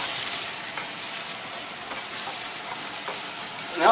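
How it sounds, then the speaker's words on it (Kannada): Street-food fried rice fries toward crispness in a roadside pan, a steady, fairly loud sizzle with light stirring strokes, swelling in a brief louder burst at the end. "ಇನ್ನೊಂದು ಸ್ವಲ್ಪ ಫ್ರೈ ಆಗಲಿ ಕ್ರಿಸ್ಪಿ ಕ್ರಿಸ್ಪಿ ಇರಬೇಕು"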